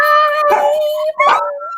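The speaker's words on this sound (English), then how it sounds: "And my dog is barking." A dog nearby gives loud, drawn-out howling barks and yips, two strong bursts over a sustained whining tone, heard clearly and alone.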